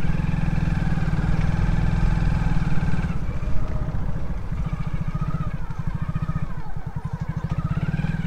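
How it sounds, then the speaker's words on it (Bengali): A motorcycle engine idling and then revving gently as the bike is turned around near a deer park by Maithon Dam, a steady close chug with a rhythmic throb. "বাইকটা ঘুরিয়ে নিই এখান থেকে"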